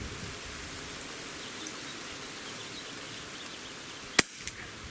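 A Chiappa Rhino 50DS limited-edition BB revolver fires a single sharp, snappy shot, followed moments later by a fainter secondary tick, over a steady background hiss.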